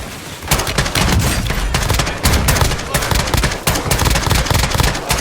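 Dense gunfire in the Call of Duty DMZ video game, rapid overlapping automatic bursts and loud shots filling the clip almost without pause.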